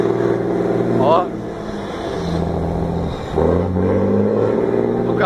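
A car engine in Brazil revs and rumbles with rising pulls, a short sharp surge near the start and another swell later, loud and close, with voices talking over it.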